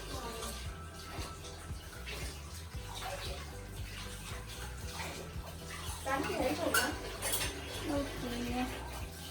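A turmeric-stained kadhai being scrubbed at a sink, with running water, scraping and clinking of metal cookware under intermittent conversation, growing busier and louder toward the end.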